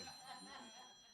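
Mobile phone ringing muffled inside someone's pocket during a live panel broadcast, a faint steady electronic ringtone heard from a distance, continuous throughout with a low room murmur beneath.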